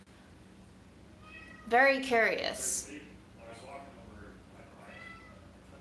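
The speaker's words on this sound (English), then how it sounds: "Do you hear those meows?" A cat meows in a short burst of several rising and falling cries, close and fairly loud, followed by fainter meows later, with people talking quietly around them indoors.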